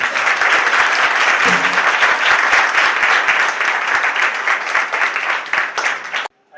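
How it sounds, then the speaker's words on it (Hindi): A church congregation applauding loudly and continuously, a dense close wash of many hands clapping that holds steady for several seconds before cutting off abruptly. "अगर खुश हैं तो खुदा के जलाल के लिए जोरदार तालियां।"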